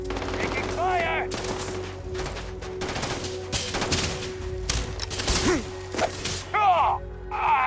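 Rapid bursts of blaster-style gunfire in the space game Starfield, loud and close, in repeated volleys with sweeping laser zips and impacts, while a voice reacts over the shots.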